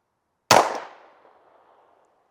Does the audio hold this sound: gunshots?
yes